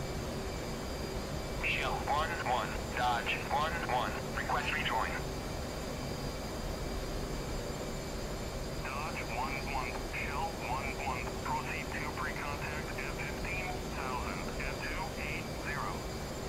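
Steady low engine roar inside an F/A-18C cockpit in the DCS flight game, chasing a KC-135 tanker at night over the Marianas; constant droning hum and whine continue under someone talking.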